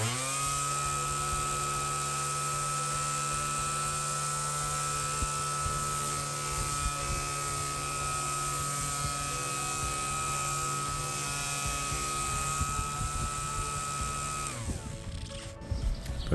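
A RYOBI R18 ROS cordless orbital sander runs steadily with passive dust extraction through three holes in its pad. It makes a continuous, loud, even whine and hum at close range, then shifts at the very end as it stops or is lifted.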